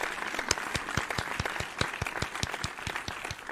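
A small group gives a round of applause on a crossword puzzle show, with steady close clapping throughout and no talking.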